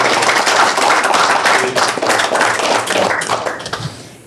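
Audience applause at a regional county council meeting in Québec, a dense, close burst of clapping that holds steady for several seconds before thinning out and fading.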